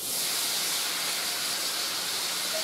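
Three cans of quartered artichokes just starting to cook in a pan, giving a steady, loud, continuous sizzling hiss, close up and with no talking.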